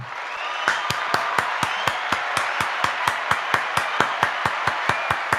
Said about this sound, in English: I got applause here, Coach.